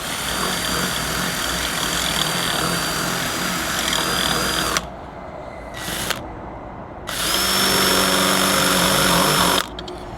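A power tool carves two lugs into a gas bottle fitting, whining loud and close in two long bursts separated by a short pause and a brief blip.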